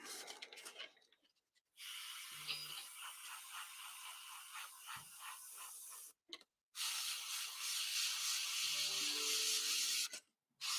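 An aerosol spray coats a MiniArt Bantam scale model set on paper, in two long hissing bursts of several seconds each, separated by short pauses and quiet handling noises.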